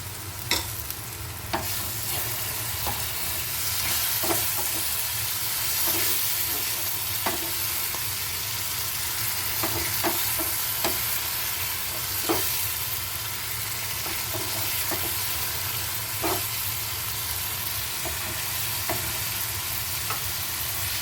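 Spice masala cooks down in a pan with a little water, keeping up a steady bubbling sizzle while a spatula repeatedly clacks and scrapes against the metal for a long stretch.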